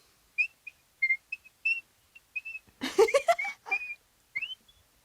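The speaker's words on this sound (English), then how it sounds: "Let's say whistle a tune." A person whistles the tune of Mary Had a Little Lamb, short clear whistled notes in a halting melody, broken midway by a burst of giggling laughter before the whistling resumes.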